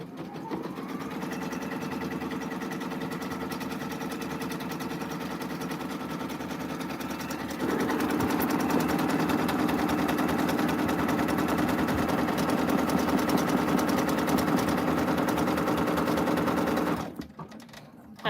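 Embroidery machine stitching a 3D puffy foam design onto a sweatshirt, a steady rapid mechanical chatter that runs for most of the stretch, gets a little louder and denser partway through, and then stops abruptly near the end.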